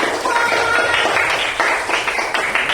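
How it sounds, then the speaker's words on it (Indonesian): A children's class claps for a group's performance, with several short rounds of applause and scattered hand taps in a classroom. The clapping is close and fairly loud. "tepuk tangan dulu untuk Candy"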